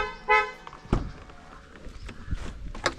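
A Kia Carens gives a short beep as it is unlocked by remote, with a further beep or two and footsteps and light handling noises close by outdoors.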